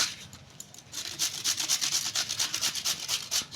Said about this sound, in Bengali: এই যে শশাটাও আমি ঘষে নিয়েছি কপিটাও আমি ঘষে নেবো